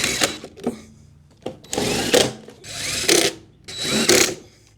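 A power drill drives T25 screws into a riding mower's cover in four loud, whirring bursts, each lasting under a second, with quiet gaps between them and a few small clicks of handling.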